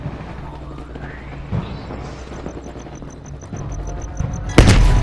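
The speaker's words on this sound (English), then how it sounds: "you followed the road right toward the sound of gunfire" Gunfire in the video game Call of Duty Black Ops Cold War: rumbling shots and booms under a steady battle din and faint musical tones, ending in a loud, close burst near the end.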